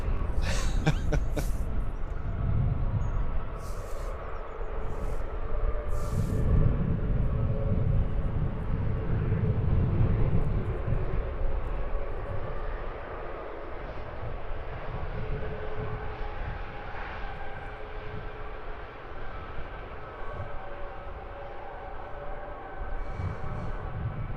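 An airliner at London Luton Airport produces a steady, distant engine roar and low rumble that holds throughout, with a few sharp clicks early on.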